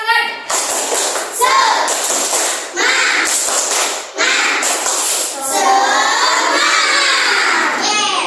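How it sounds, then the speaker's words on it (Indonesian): A class of schoolchildren joins in a rhythmic spirit clap in a classroom, the clapping patterns mixing with loud shouting and chanting voices in several bursts across the clip, with a teacher's voice leading. "Biar semangat, kita tepuk semangat dulu."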